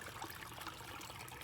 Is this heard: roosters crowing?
no